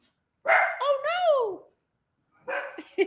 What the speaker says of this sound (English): Oh no, there's another dog here.